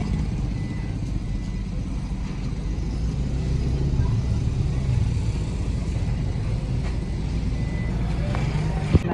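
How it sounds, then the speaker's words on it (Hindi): Grey van driven around open ground rather than a lane: a continuous low engine and road rumble, fairly loud and steady, with faint scattered rattles above it. "ग्राउंड में गाड़ी चलाएंगे।"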